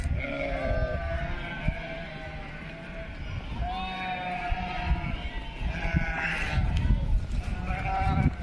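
Sheep bleat again and again close by, overlapping calls from a small flock, with faint voices and shuffling in the background.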